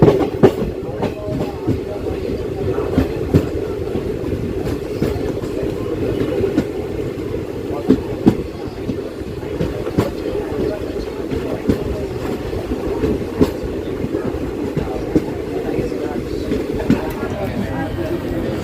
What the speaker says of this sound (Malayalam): കർണാടകയിലെ ആദ്യത്തെ റെയിൽവേ സ്റ്റേഷനായ ഉള്ളാൾ റെയിൽവേ സ്റ്റേഷനിലേക്ക് ട്രെയിൻ ഇതാ എത്തിക്കൊണ്ടിരിക്കുകയാണ്